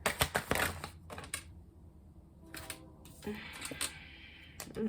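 Several quick bursts of riffling and shuffling tarot cards, crisp and close, with pauses between handfuls and light tapping of the deck.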